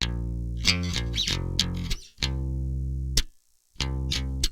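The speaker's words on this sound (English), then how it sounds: "Here's what the DI bass tone sounds like." A dry, unprocessed electric bass plays a thick, sustained riff of repeated low notes, clean and up front, with brief gaps between phrases.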